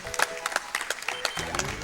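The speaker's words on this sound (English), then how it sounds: "Clapping for RNG." A small group at a live speedrun event claps for about a second, quick close handclaps, before a voice starts talking.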